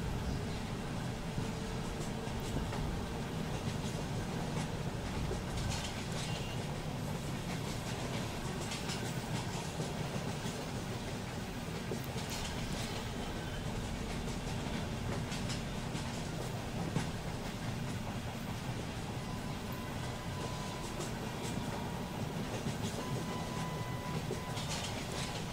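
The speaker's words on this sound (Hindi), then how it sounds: "चर्च गेट बोरीवली से लोकल क्रॉस कर रही है, वो ब्यूटीफुल सी क्रॉसिंग हो रही है" A Mumbai local train on the Churchgate–Borivali line crossing past, a steady continuous rumble and rattle of rolling wagons that holds for the whole stretch, with no voices.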